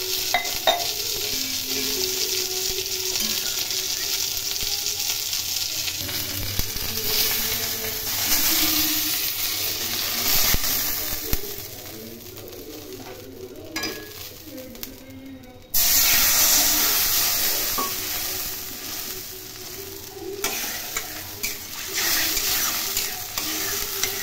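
Water poured into fried masala for a Bengali vetki fish jhal hisses and simmers steadily in the pan, with stirring scrapes over a constant bubbling sizzle that briefly drops and then surges back louder.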